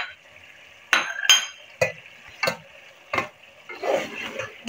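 Kasuri methi being stirred into a chickpea and spinach curry in a pot, a spoon scraping and clinking against the metal in several sharp knocks over a soft sizzle, close up with no talking.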